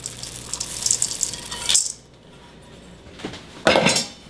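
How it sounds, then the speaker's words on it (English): Mini chocolate chips tumble into a bowl of cookie dough in a short rattling rush, then a pause, then a second louder clattering pour, close by with no talk. "So we're gonna put chocolate chips in."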